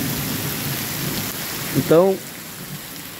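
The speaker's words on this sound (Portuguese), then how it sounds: "O inverno aqui é chuva, em Guajará-Mirim, Rondônia, Amazônia" Heavy rain pours steadily in Guajará-Mirim, Rondônia, in the Amazon, with a brief rumble partway through; someone speaks briefly over the downpour.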